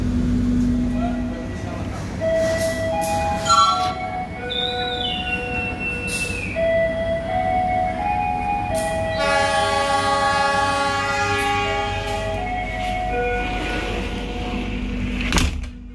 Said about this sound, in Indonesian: Ada kereta api lokal ya, Tidal, ada loknya juga.